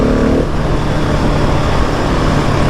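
A 2020 Husqvarna 701 SM motorcycle accelerating hard in third gear, loud sustained engine roar close up with wind noise, no pauses.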